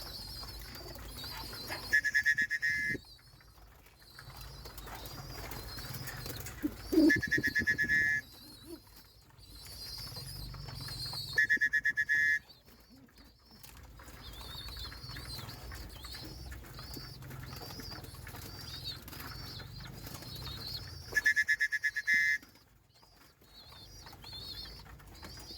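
Pigeons coo softly near a person hand-feeding them, low repeated cooing in a quiet setting, with intermittent brighter chirping calls and faint rustling between.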